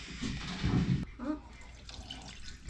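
Water, about a cup, is poured from a tap for a home baking mix. It sounds faint and short, with brief splashing and running under quiet voices nearby.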